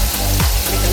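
Tomatoes brown in a hot pan with a loud, continuous close-up sizzle that swells and dips slightly over a brief moment.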